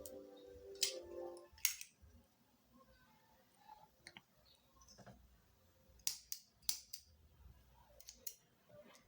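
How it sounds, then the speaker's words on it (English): Scissors snip crochet yarn in a few quiet, sharp clicks spread across a faint, quiet room, with scattered small handling taps between cuts. "I'm going to chain 1 and cut off my yarn"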